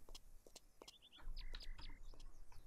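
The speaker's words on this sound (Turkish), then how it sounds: "Kuş sesleri arkamızda." Chirping and tweeting birds in the farming simulation game Farmer's Dynasty, short bright calls repeating over soft background rumble and faint movement noise.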